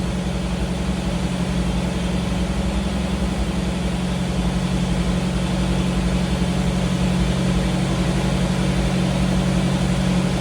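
A 1985 Jeep CJ7 engine with Holley Sniper EFI idling steadily just after startup, a loud, constant low rumble close by with no breaks, still warming up.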